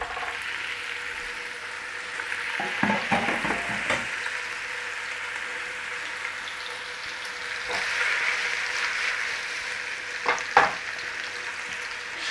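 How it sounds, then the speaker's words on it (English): Meatballs browning gently over a low flame in a single pan, sizzling softly and steadily throughout, with a few brief clinks and shuffles of a utensil moving them around. "Start to brown them off nice and gently in there."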